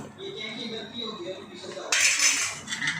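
Fried snacks are tossed quickly with warm sugar syrup in a pan or bowl. A voice talks first, then brisk scraping and clattering of a utensil against metal rises up close.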